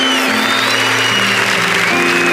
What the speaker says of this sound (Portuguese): padre, é para o Senhor esses aplausos.